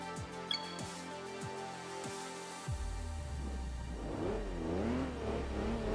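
A minivan's engine in the Enthusia Professional Racing video game, racing against Japanese sports cars: a low, steady rumble gives way to a droning rev that rises and falls repeatedly, heard up close with no talking.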